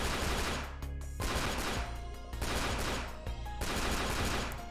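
Pistol fire in the video game The 3rd Birthday: bursts of shots repeat roughly every second, moderately loud over a steady layer of game music and effects.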